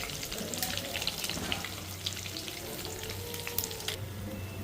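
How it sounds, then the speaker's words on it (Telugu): Cumin seeds, curry leaves and three dried red chillies crackle in hot oil, a dense, close sizzle that holds steady throughout with small pops and no voices. "ఇది జీలకర్ర 1 స్పూన్ జీలకర్ర, కరివేపాకు 2 రెమ్మలు, 3 ఎండుమిర్చి వేస్తున్నాం."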